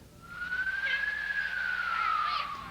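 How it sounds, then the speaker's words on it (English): A single emergency-vehicle siren wails nearby in an early-morning neighborhood, its tone rising slowly and then sliding back down in one long sweep over a low background rumble. "Wailing sirens broke the early morning silence of a Spring Valley neighborhood about 5:30."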